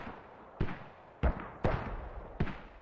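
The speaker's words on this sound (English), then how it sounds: "They are double mortaring the tank Martica since 5 minutes now." Mortar rounds in a video game tournament match land as four heavy booms spaced about a second apart, each a sharp blast with a short rumbling tail.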